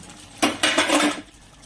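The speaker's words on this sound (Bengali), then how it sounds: "দশ মিনিট পরে ঢাকনাটা খুলে নিলাম" A metal lid lifted off a cooking pot of simmering katla fish curry, two quick clanks of metal on metal followed by a brief rattling scrape, close and fairly loud, then quiet.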